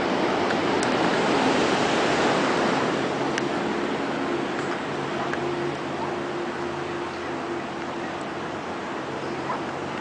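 Ocean surf at Malibu Pier at sunrise rolls in as a steady, loud broadband wash, continuous and unbroken, with no voices over it.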